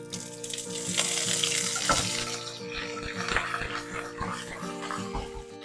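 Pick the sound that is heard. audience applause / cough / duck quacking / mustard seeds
mustard seeds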